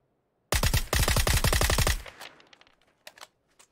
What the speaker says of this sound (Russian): половину хп я ему снес этими выстрелами